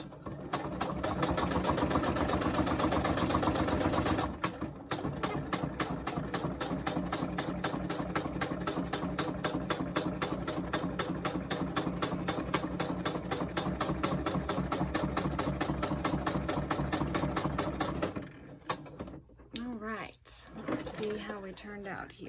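Sewing machine running a straight stitch on fabric scraps, a close, steady rapid mechanical whir and needle chatter for about eighteen seconds with a brief pause near four seconds, then stopping into a few handling sounds.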